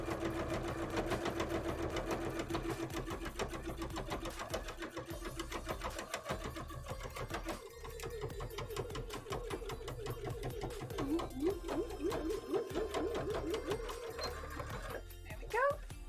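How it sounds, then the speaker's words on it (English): A sewing machine stitching a bra, its rapid mechanical needle rhythm running nearly continuously up close, briefly pausing and restarting, with people talking over it. "let's sew down this side again"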